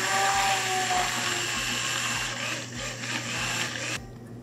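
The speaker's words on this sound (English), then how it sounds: "we blend one more time to create a nice emulsion between the Cointreau, zest, and the rest of the sorbet" A blender whirs steadily as it emulsifies a Cointreau sorbet mixture with citrus zest, a loud, continuous high motor whine that holds for several seconds before cutting off abruptly.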